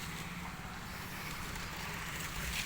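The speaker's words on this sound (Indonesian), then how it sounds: "Bisa dilihat tuh anginnya guys ya, mengerikan anginnya." Strong wind gusts through avocado trees as a continuous loud roar and rush, with heavy microphone buffeting and no clear voices.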